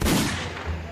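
Iron Man's ultimate skill in Marvel Super War fires a light beam from his chest with a sudden loud, booming blast. A roaring rush trails off over under a second, then a second low thump follows.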